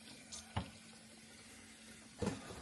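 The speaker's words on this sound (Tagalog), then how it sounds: "Lagay siya ng tubig sa sink." A tap runs into a kitchen sink full of soapy water where dishes are soaking, a low faint trickle broken by two short splashes and clinks.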